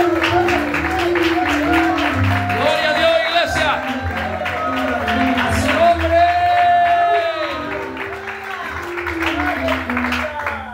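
A church congregation claps and cheers during a worship service, a steady mass of applause mixed with organ-like music, singing and a preacher's voice over it.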